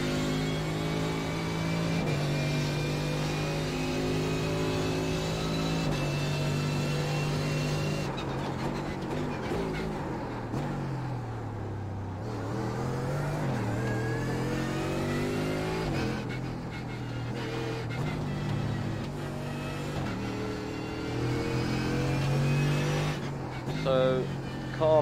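A Mercedes AMG GT race car in the iRacing video game at the Nürburgring, its engine droning loudly with steady pitch and repeated rises and falls as it revs and shifts through corners, continuous throughout.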